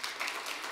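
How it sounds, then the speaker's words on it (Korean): A church congregation claps briefly during a Korean worship service, a soft, distant patter of many hands lasting under a second. "박수 한번 쳐주십시오."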